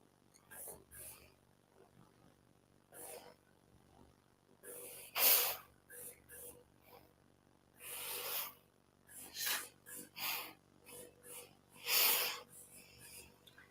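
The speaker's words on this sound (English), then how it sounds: "This is a dry steam." Short bursts of dry steam puff from a clothes iron pressing fabric during a sewing session, several separate hisses at irregular intervals against a quiet room.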